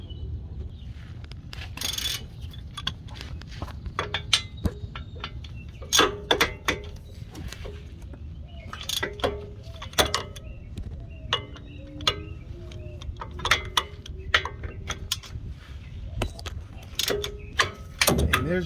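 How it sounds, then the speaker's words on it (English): Electric ratchet spinning out loosened 15 mm bolts on a Ford Edge axle job, giving repeated short bursts of whirring and clicking ratchet ticks with metallic clinks in between, fairly close in a garage with low background rumble. "I'm going to break them loose with my 15 and then use my electric ratchet to get them out."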